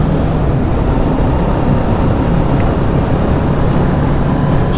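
A Kawasaki Ninja 650 motorcycle engine runs steadily under way, a loud, even drone with constant broadband wind and road roar and no break in level.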